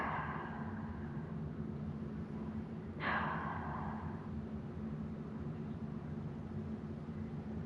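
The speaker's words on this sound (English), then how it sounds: "If you're hearing me breathing out like this every" A person exhales heavily once, a single close breathy whoosh rising sharply and fading over about a second against a steady low hum.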